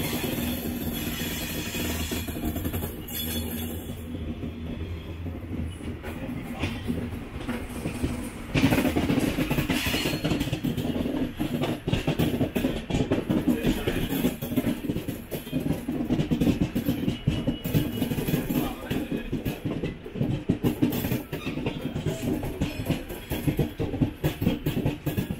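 The 06053 Onam Special Train from Tambaram to Ernakulam rumbles steadily with rattling, clanking mechanical noise throughout, the din rising louder partway through.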